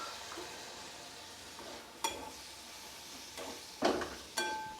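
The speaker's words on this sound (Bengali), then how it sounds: "এবার আমি এর মধ্যে দিয়ে দেবো একটা টমেটো কুচি করে রেখেছিলাম" Chopped tomato fries in a pan of dal palong, with a soft steady sizzle under a few scattered scrapes and knocks from stirring.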